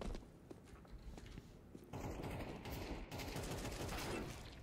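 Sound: AK-47 gunfire in the video game Counter-Strike 2

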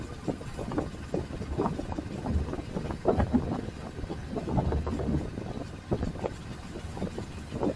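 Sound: wind noise while driving

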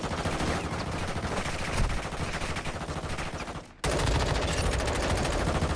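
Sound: gunfire in video game Call of Duty Warzone Mobile

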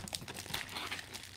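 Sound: cutting open a sealed mail package

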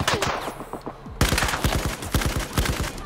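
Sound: gunfire in Battlefield 4 video game

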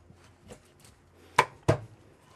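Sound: knife cutting off a fish fin

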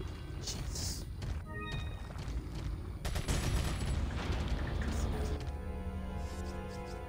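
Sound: gunfire shooting at the player in video game Resident Evil 4

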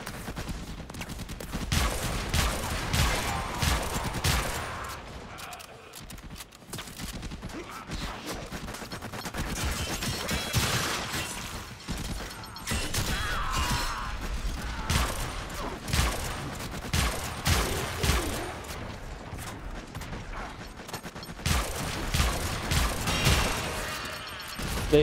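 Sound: grenade explosions and gunfire in the video game Warframe

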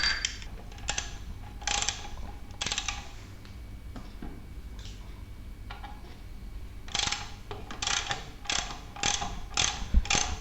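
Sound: tightening bicycle wheel axle nut

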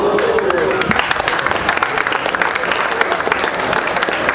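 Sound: audience applause at a hip hop event

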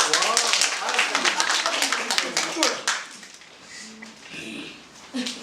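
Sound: audience clapping

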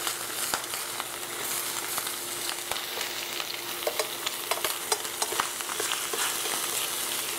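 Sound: bacon sizzling in a hot pan

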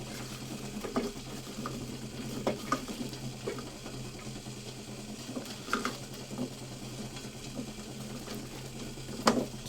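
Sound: mixing guava with kasundi, chili powder and salt

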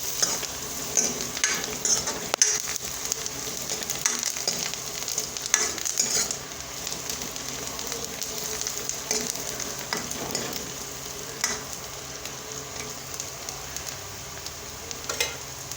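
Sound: stirring and frying a snack mixture in a pan

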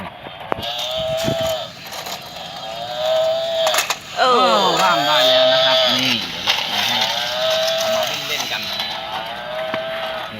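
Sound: cow mooing near railway tracks

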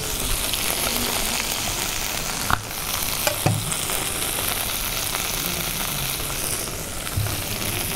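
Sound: pepper and garlic frying in pan

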